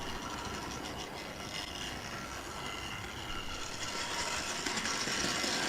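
A model railway train runs past a Mobius SE action cam mounted on it, giving a steady, close rolling rattle with hissing wheel noise that grows slightly louder toward the end.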